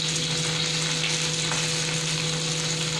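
Cauliflower sautéing with black pepper powder, ginger and green chili for a gobi jalfrezi, giving a steady, close sizzle and frying crackle throughout, with no talk.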